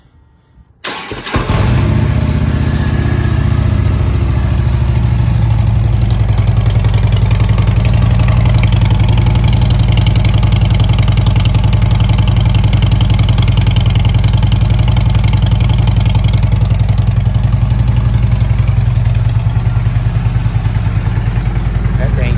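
A 2010 Harley-Davidson motorcycle at its daily start-up, the engine catching after a brief crank and then idling loud and close with a steady, throbbing lope throughout.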